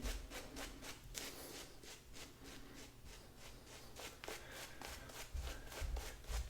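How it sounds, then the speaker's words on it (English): A shaving brush works thick lather into a beard with a soft, rhythmic scrubbing and swirling, close and quiet, with repeated strokes throughout. "Just drive that lather into the beard, soften it up."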